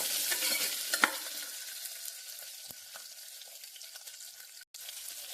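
Small onions sautéing in a pan for a mashed tomato gravy: a crackling sizzle that is busiest at first, then settles into a quieter hiss, with occasional stirring scrapes and no talking.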